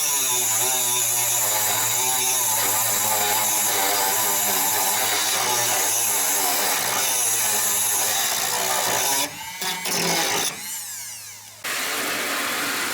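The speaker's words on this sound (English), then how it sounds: "cleaning up the little edges where the holes are. Stuff like this, where it's not completely straight with the Dremel" A Dremel rotary tool whines steadily and loudly while cleaning up the edges of vent holes cut into the hood of a supercharged NB1 Miata, then briefly cuts out and restarts near the end.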